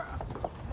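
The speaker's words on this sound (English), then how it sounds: "We out here riding on the horse." A ridden horse's hooves make faint, quick clip-clops close by, with a rumbly outdoor background behind them.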